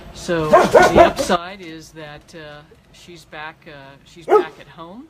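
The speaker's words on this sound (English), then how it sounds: "Esau is very happy with his new porch, so pardon the barking" A dog named Esau barks and whimpers on a new porch, with yips and short whiny barks running under and between a person talking close by.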